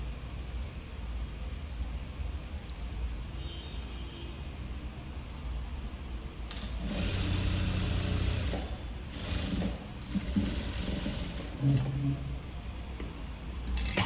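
Sewing machine stitching thread piping on a close-neck blouse, a quiet steady background hum that rises into a louder, faster run of stitching in the middle, then eases off in short bursts.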